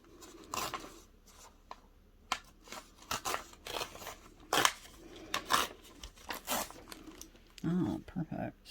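Paper being torn for a journal cover comes through as a series of short ripping, crinkling bursts at close range, irregular and stop-start, with a voice speaking between them.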